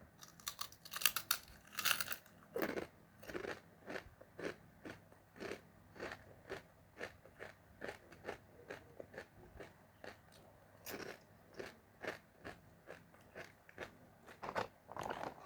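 Crunchy paprika-flavored crispy chicken skin is bitten and chewed close up, with loud crisp crackles and crunches repeating steadily throughout.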